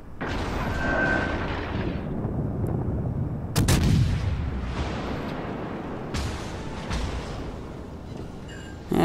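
Heavy naval gun salvos from a battleship in World of Warships, deep booming blasts with a sharp loud crack partway through, rumbling and decaying over a steady background.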